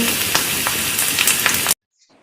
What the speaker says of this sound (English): Thank you, Cook, for giving that sizzle music.